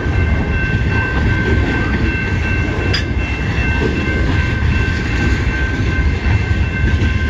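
A big CN freight train passes near at South Rockwood, its dense continuous rumble and rattling wagons loud and unbroken, with one sharp brief clank partway through.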